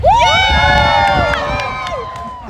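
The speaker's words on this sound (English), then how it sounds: "Now you can cheer more if you'd like." A live theater audience at a comedy storytime show cheers and whoops loudly, with many overlapping shouting voices that swell briefly and then taper off.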